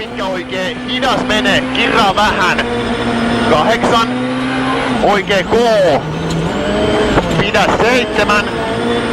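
Rally car at the 2011 Swedish Rally accelerating and sliding sideways: loud engine revs rising and falling through gear changes, repeated surges close by, with a commentator talking over it.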